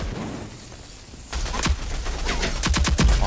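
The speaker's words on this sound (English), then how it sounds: "I can shoot you there" Bursts of gunfire in the Rogue Company video game, a quick volley of sharp close shots followed by rapid repeated firing, loud and continuous without speech.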